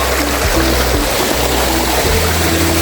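A small forest stream flows with a constant, loud, close broadband rush of water, alone without voices.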